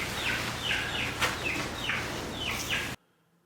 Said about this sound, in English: If you hear that background noise every once in a while, I've got a little brooding pin with a bunch of baby chicks in it in my shop